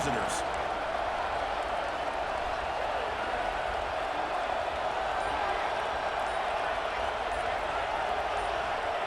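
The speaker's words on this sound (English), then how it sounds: "Listen to the crowd energy here in the early going." A stadium crowd in a college football video game roars as a steady, dense wash of cheering filling the whole stretch, with a commentator talking over it.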